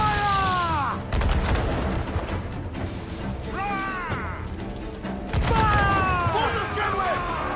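Ship cannons booming in a naval battle in Assassin's Creed IV: Black Flag, several heavy blasts in quick succession with rumbling impacts, under shouted crew commands and a busy game soundscape.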